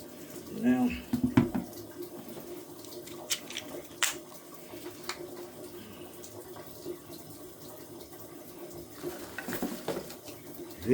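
Water runs from a shower valve at a tub with a flowing, splashing hiss that stays steady throughout, broken by a few clinks and knocks from handling the fixture.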